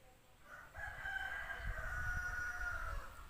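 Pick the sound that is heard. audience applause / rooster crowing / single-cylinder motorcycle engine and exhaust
rooster crowing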